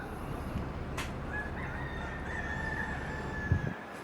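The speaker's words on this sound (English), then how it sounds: "And the chickens are telling them to move too." Roosters crow near the port gates on Kauai, a drawn-out call rising over steady outdoor background noise, with a brief thump near the end.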